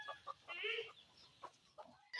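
Native chickens clucking around a raised coop, several short soft clucks and one drawn-out squawk, scattered and fairly faint with quiet gaps between calls.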